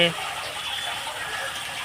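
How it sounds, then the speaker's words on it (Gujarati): Water gushes steadily from a tap into a tank, a continuous close rushing sound with no breaks. "પાણીનો ટાંકો ચાલુ કર્યો છે, ટાંકો ભરાય છે."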